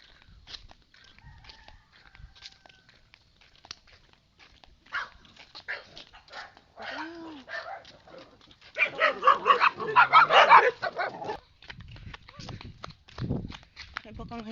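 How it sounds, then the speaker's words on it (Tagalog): A dog barks several times, loud and fairly near, in a short burst amid people talking and footsteps, with quieter yaps before and after. "May aso ulit."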